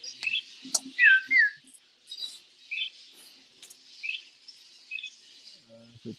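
Parakeets calling in an aviary, a scatter of short whistled chirps and one clear warbling note, moderately near, with brief gaps of quiet between calls and a faint low voice near the end.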